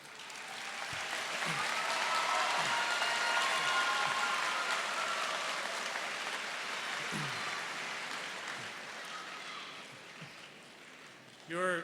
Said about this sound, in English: How about another round of applause for everyone here?